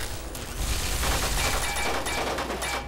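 An automated turret in Fallout 3 firing, a dense, continuous rattle of rapid gunfire with booming low end across the whole clip, loud and close, with no voices.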